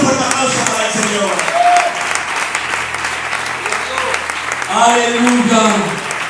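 Church congregation giving a strong round of applause for the Lord, a continuous clapping wash with voices calling out over it, loudest near the start and again toward the end.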